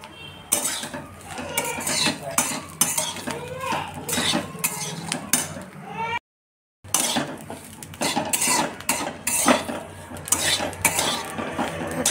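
Sweet corn being dry-roasted in a pan while a spoon stirs it, producing repeated close metallic scrapes and clatters with a brief pause midway.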